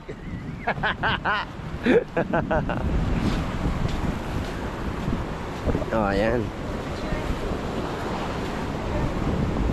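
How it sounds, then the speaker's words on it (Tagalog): Big Pacific Ocean waves breaking on the shore at Surigao del Norte, a steady roar of surf mixed with gusting wind buffeting the microphone, while a person speaks briefly early on and again near the middle. "Ang laki ng alon me."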